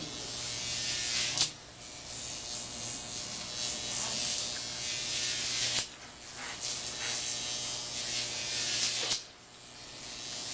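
A Jacob's ladder of roughly 1,500 volts gives off a harsh, steady electric buzz. The buzz breaks off with a snap about every four seconds as the arc climbs and restarts, with faint voices in the background.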